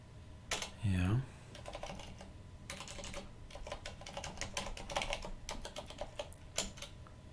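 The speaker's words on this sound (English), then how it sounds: "Let's type in my password again." Close computer keyboard typing during an Arch Linux installer setup, a quick run of rapid key clicks in bursts after a brief mechanical sound, with a voice speaking faintly.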